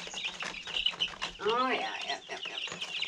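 Young meat bird chickens cluck and chirp close by, with a few short calls and one clear squawk in the middle, while a person briefly speaks.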